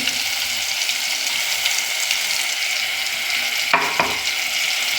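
Drumsticks cooking in a pan sizzle steadily while a blended paste of onion, garlic, tomato and coconut is stirred in, with a brief scraping stir near the end and no talk.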